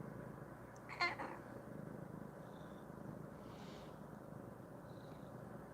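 A house cat lets out a single short meow, then the quiet room goes on with faint, soft background noise.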